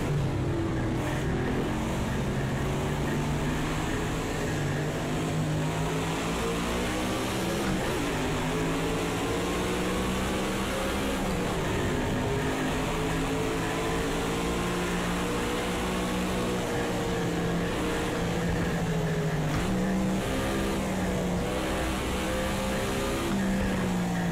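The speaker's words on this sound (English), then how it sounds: "Got a car coming on the outside." Race car engines in Project Cars 2, a steady loud droning roar with rising and falling pitch as the cars accelerate and shift through a sim race, several engines layered together with no talk.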